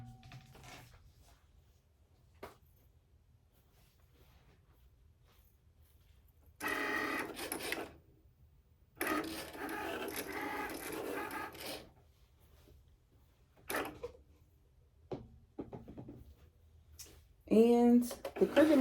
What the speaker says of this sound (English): the Cricut Maker 3 cuts very, very fast